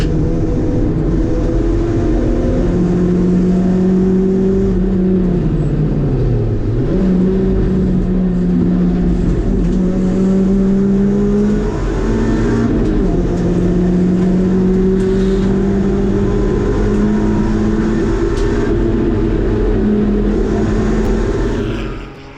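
Honda and Ferrari GT race cars racing at Castle Combe, a loud, continuous engine roar heard from inside a car, its pitch climbing and falling with gear changes and throttle lifts.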